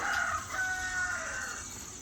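A rooster crows loudly close by on a farm during rain, its long drawn-out call stretching across the whole clip over a steady background hum.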